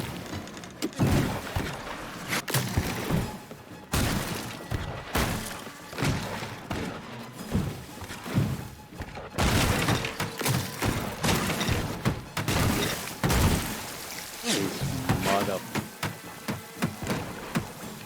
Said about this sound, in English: He's just laying me out with cannonballs at this point.